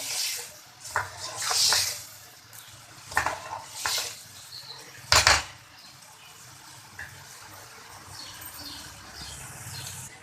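Black chickpeas roasted in a pan with dry spices, salt, crushed chili and chaat masala, heard as intermittent scraping and clattering of a spoon against the pan over a faint sizzle, with a few louder bursts.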